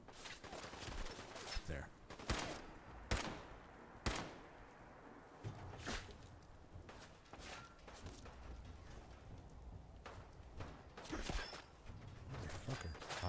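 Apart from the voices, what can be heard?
enemy gunfire in the video game Fallout 4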